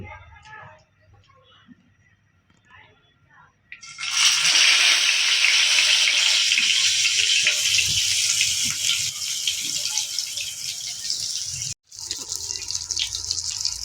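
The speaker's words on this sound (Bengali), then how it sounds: "কড়াইয়ের মধ্যে তেল দিছি তেলটা ফুটন্তভাবে গরম হয়ে গেছে তো এখন আমরা তেলের মধ্যে আমরা বেগুনটা দিব" Eggplant slices dropped into boiling-hot oil in a wok-style pan for begun chop, setting off a loud, steady sizzling hiss that starts a few seconds in and holds to the end, broken by one brief gap.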